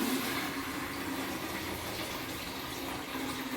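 Water pours steadily over flattened rice (aval) being washed in a kitchen, a continuous, even rush of liquid throughout with no talk.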